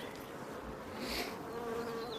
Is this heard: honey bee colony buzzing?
yes